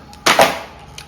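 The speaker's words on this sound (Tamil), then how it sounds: "ரிங்கு துப்பாக்கி 125 rupees. ஒரு கன்னு 5 ரிங்கு வந்துடும்." A toy ring cap gun fires Diwali caps: two sharp cracks in quick succession, close and loud, followed by a faint snap.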